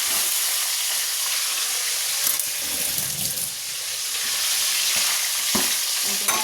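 Fish heads frying in hot oil in a pan, a loud continuous crackling sizzle close up with a few faint clinks, no voices.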